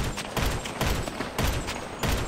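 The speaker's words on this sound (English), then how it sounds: "Yeah, we shot him another time." Gunfire in GTA 5 Online: a run of sharp, loud shots in quick bursts, roughly four spaced volleys across a couple of seconds, with no talk over them.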